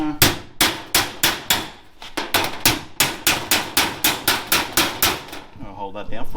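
A hammer knocks dents out of a small ute's sheet-metal panel against a dolly, about twenty sharp, close metallic strikes in a steady, fast rhythm with brief pauses between bursts.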